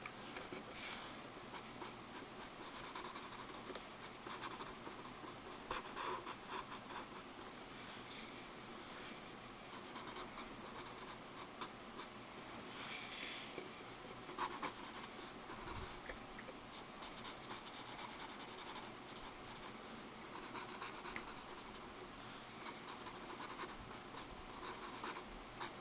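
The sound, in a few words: pencil sketching in a small sketchbook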